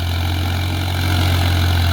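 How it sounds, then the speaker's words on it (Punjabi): A tractor fitted with extra weights and with a rotavator hitched behind it runs while puddling a flooded paddy field. Its engine drones loud and close in a steady low rumble throughout, with no talking. "ਵੇਟ ਟਰੈਕਟਰ ਨੂੰ ਪਏ ਹੋਏ ਨੇ ਬੈਡ ਪਾਏ ਹੋਏ ਨੇ ਮਗਰ ਰੋਟਾਵੀਟਰ ਟੰਗਿਆ ਹੋਇਆ"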